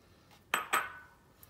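Two quick clinks of ice hitting a blender jar for a banana milkshake, close and fairly quiet against a near-silent background, with a faint rattle between them.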